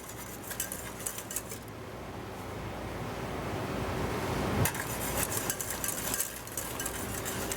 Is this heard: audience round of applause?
no